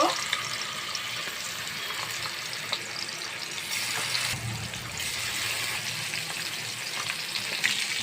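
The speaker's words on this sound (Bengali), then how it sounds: "প্যানেতে আমার তেলটা গরম হয়ে গেছে এখন আমি সবগুলো মাছ একসঙ্গে আমি দিয়ে দিব" Rohu fish pieces fry in hot oil in a pan, a continuous close sizzling hiss that swells briefly midway as more sputtering erupts.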